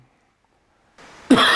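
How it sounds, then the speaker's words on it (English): A single sharp cough breaks out after a moment of silence, loud and close, preceded by a brief breathy rasp. "Not really supposed to cough, I know."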